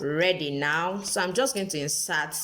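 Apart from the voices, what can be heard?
No distinct noise like a dog, phone or traffic.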